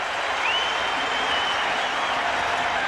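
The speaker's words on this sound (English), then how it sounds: "And now the crowd is getting into it." Crowd at a 1995 Orioles–Indians baseball game in the ninth inning, a steady roar of cheering and applause filling the stadium at constant loudness, with a faint whistle rising above it.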